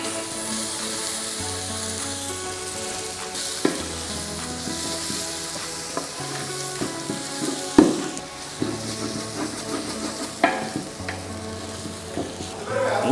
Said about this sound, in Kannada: ಗ್ರೀನ್ ಪೇಸ್ಟ್ ಚೆನ್ನಾಗಿ ಫ್ರೈ ಆಗೋದು ವೆರಿ ಇಂಪಾರ್ಟೆಂಟ್